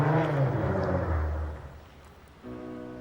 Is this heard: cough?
no